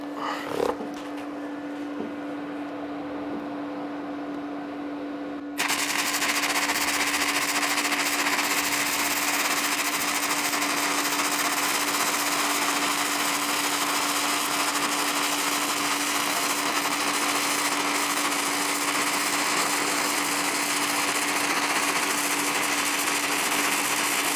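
MIG welding on a 3-in-1 welder: a steady, harsh crackling buzz from the arc begins after a few seconds of a faint hum and runs continuously and close for the rest of the clip.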